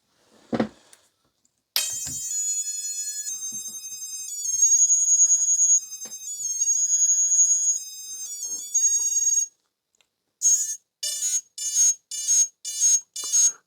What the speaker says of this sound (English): It's beeping there because I haven't got anything connected to it or like that, so it's probably got an RX loss or something